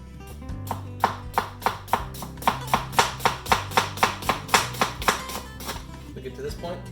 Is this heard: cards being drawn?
no